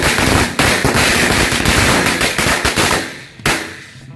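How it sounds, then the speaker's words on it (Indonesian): Dense, loud crackle of a mix of four kinds of Indonesian matchstick firecrackers (mercon korek) going off in quick succession for several seconds, tapering, then a last sharp bang. "yang selanjutnya kita nyalakan perpaduan 4 jenis mercon korek"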